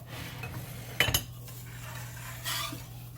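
A utensil scrapes and clinks against a dish while stirring a chicken and rice casserole mixture, with one brief cluster of louder knocks amid quiet handling.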